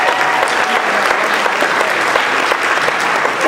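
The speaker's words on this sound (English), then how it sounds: "A round of applause for all of them that cheered." Loud, sustained applause from a crowd at a Coaches for Cancer charity event, a thick continuous rattle of clapping hands heard close and full throughout.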